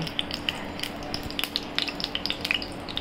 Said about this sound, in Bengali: তেল কিন্তু গরম হওয়া শুরু করেছে